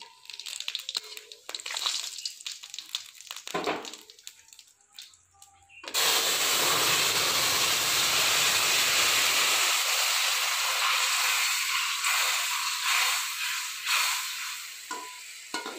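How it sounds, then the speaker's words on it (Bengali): Dried red chillies and cumin hitting hot mustard oil in a pan burst into a loud, close, sustained sizzle and hiss, following some clatter and faint voices in the kitchen. "গরম হয়ে গেছে, সরষের তেল দিয়ে দিলাম, শুকনো লঙ্কা,"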